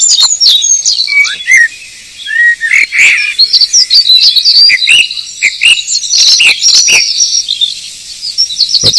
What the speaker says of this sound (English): At the height of spring, Britain's birds were singing their hearts out, trying to claim territory and rule on it.